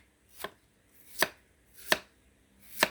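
A knife chops through fresh, young bamboo shoots, cutting them into thick pieces; four sharp, evenly spaced strokes ring out alone, close up and fairly loud.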